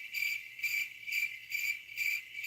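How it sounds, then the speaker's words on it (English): Crickets chirp in a steady pulsing rhythm, about five evenly spaced bright bursts, close and clear with nothing else around them. "Is this a wall of crickets,"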